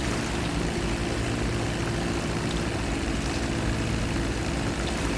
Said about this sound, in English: Done in Dodo Sea Plane, yet again.